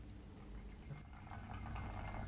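Water pours from a bottle into a container during a bedside cognitive task, a steady close trickle and splash that builds slightly in fullness over about two seconds.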